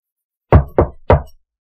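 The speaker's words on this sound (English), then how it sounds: "You see someone come to the door and knock." Three sharp knocks on a door in quick succession, loud and close, with silence before and after.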